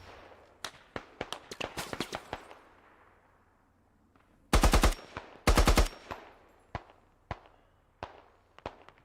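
Automatic rifle fire in the video game Squad, rattling out in short sharp bursts with scattered single shots, two loud dense bursts midway, and fainter distant gunfire in between.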